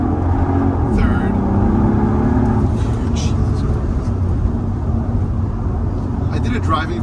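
A Mercedes SL65 accelerating hard with wheel spin and shifting up through the gears, its steady loud engine roar filling the cabin, with someone talking over it.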